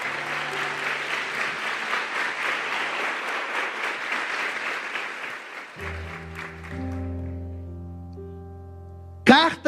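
A church congregation claps loudly and steadily for around six seconds before the applause fades. A sustained organ or keyboard chord then enters, and a brief burst of noise comes at the very end.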